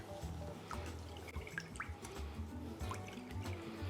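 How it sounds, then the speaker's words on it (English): Lemon juice drips and trickles through a sieve into sweetened condensed milk, making soft, irregular drips that stay quiet and close throughout. "Add the lemon juice to your sweetened condensed milk. I'm putting mine through a sieve"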